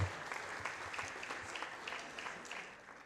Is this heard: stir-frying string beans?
no